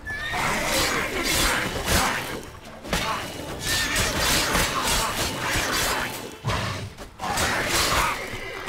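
A horse whinnies in The Witcher 3: Wild Hunt – Blood and Wine amid loud, dense game sounds of crashes and impacts, continuous throughout with a few short dips.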